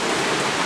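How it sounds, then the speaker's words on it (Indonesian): Rain pelting directly onto a camera outdoors, a steady dense hiss of drops with no pauses, close and fairly loud for its brief length, with no voices. "Aduh, kena air hujan nih kameranya"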